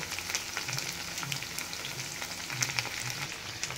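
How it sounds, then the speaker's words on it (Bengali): Chicken pieces frying in a pan for a gravy dish, with a soft, steady sizzle and light crackle that runs continuously at low volume, no voices. "এখানে চিকেনগুলো ভেজে নিচ্ছি"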